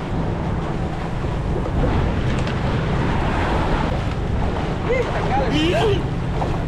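Steady wind and rushing water over a low engine hum, with a few faint chirps near the end, like a small boat moving across open water.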